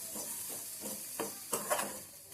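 Wild mushrooms with turmeric, salt and spices stirred in a dry pan without oil, soft rhythmic scraping strokes over a faint sizzle, close and quiet.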